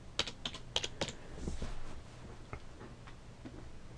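Someone types on a computer keyboard while searching in Windows 10, a brisk run of clicky keystrokes followed by a few scattered taps, close and moderately loud with no talk.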